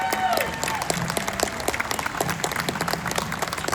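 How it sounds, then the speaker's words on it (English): Audience applause at a 50th-year commemoration event for Vietnamese refugees, a full crowd clapping in a close, crisp, sustained burst with distinct individual claps audible throughout. "Let's give them both another round of applause"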